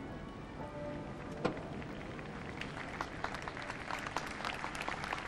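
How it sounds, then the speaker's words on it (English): A street crowd applauding a passing hearse at Princess Diana's funeral, a faint, distant, steady patter of clapping sustained throughout, growing slightly denser toward the end. "as they now applaud the passing hearse"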